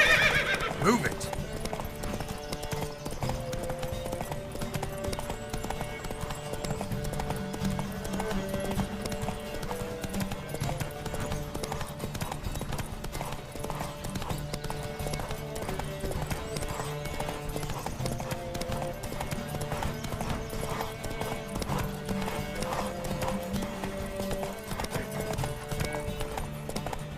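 Steady clip-clop of galloping horses in a race in The Witcher 3: Wild Hunt runs throughout, with occasional whinnies over a busy game soundtrack.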